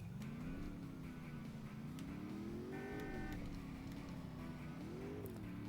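Car engine in the PS1 game Driver, a steady, slightly raspy hum that rises and falls with throttle throughout, continuous and moderately loud with no one speaking.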